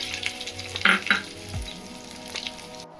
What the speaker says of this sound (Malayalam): കടുകിട്ട് പൊട്ടുന്ന സമയത്ത് ഉള്ളി വെളുത്തുള്ളി അത് രണ്ടുമാണ് ഇതിൽ ചേരുക